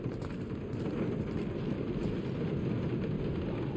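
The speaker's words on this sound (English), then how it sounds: "Of course, it had to be raining." Steady rain falls across an outdoor alien level in Marvel's Guardians of the Galaxy, a dense continuous hiss with a low rumbling bed, unbroken and fairly loud with no voices over it.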